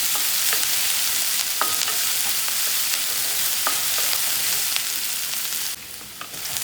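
Green chillies sizzle steadily in hot oil in a pan, with a spoon scraping and stirring at intervals; the frying hiss is continuous and close, with no voices.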